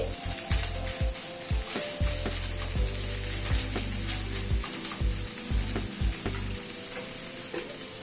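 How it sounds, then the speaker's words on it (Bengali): Fish pieces stirred into hot oil with ginger, chili and spices, giving a steady close sizzle broken by repeated scraping and knocking strokes of a spatula; no one speaks. "এবার মাছটাকে দিয়ে দিচ্ছি। মাছটাকে দিয়ে মশলার সাথে মিশিয়ে নিচ্ছি।"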